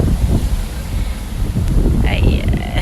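Strong wind blows outdoors, buffeting the microphone in low, gusty rumbles throughout, with a brief voice-like sound toward the end.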